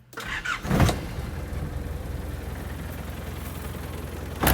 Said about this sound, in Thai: เครื่องดีสตาร์ทง่าย